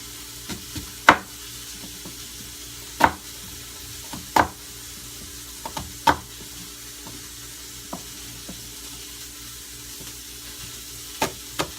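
Ground beef frying in a pan makes a quiet, continuous sizzle, broken every second or two by sharp knocks of a utensil scraping and stirring against the pan.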